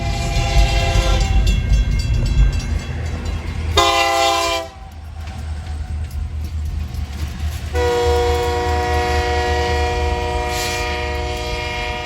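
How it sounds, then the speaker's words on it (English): A loud freight train rumbles past nearby at night, its horn blaring in long sustained blasts, dropping out briefly, then sounding again over the steady roll of the cars. "And there's a train. Here she comes again."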